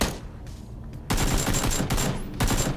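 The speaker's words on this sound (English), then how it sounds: "But when he started shooting over here," Rapid gunfire in the video game PUBG, a dense rattling volley of shots that starts abruptly and continues steadily, close and loud.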